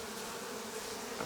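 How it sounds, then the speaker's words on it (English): A steady, dense hum of Africanized bees swarming around a beehive in spring, close and continuous with no pauses. "they say these have some of the Africanized bees in them"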